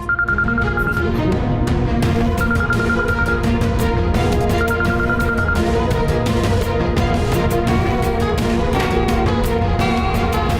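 Phone ringing in a Hindi drama scene: a repeating electronic ringtone chirps in short bursts over loud, busy background music, with no voices heard.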